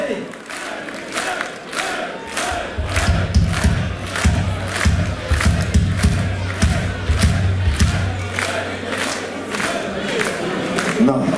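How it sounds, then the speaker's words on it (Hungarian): Concert crowd at a rock show cheering and clapping for Norbi's birthday, a loud continuous roar of voices with steady rhythmic claps, low thumping underneath. "Egy nagy tapsot a Norbinak!"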